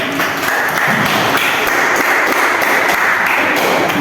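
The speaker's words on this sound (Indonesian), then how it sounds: "Tepuk tangan untuk Putri." Students in a junior high school classroom clap together for a classmate during a religion lesson, giving a steady, dense patter of hands at close range that lasts the whole stretch without a break.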